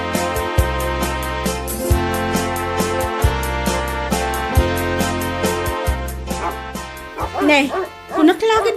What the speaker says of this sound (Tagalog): Ano asino ti tataulan ti aso?